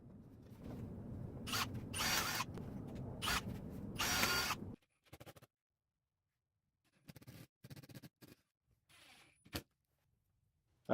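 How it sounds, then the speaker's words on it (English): A drill pre-drills and drives screws into wooden jewelry armoire cabinet pieces, with several loud whirring bursts up close, followed by sparse quiet clicks, handling knocks and near silence. "Here I'm just pre-drilling and trying to screw the pieces in together"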